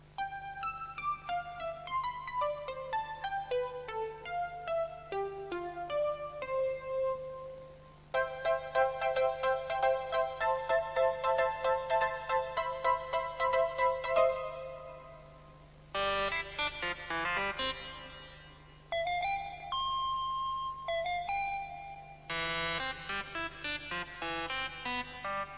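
A synthesizer plays a catchy tune in several different tone colors, the phrases repeating as the patch changes between bell-like, buzzy and brighter sounds, fairly soft over a low steady hum.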